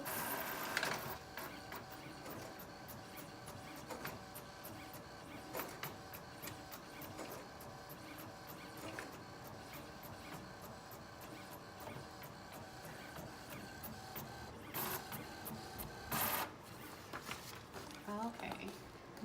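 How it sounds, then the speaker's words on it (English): A veterinary lab chemistry analyzer prints blood test results with a quiet, rhythmic mechanical chatter of repeated printing strokes, plus a few louder clicks near the end, while voices murmur in the background. "my results will print out"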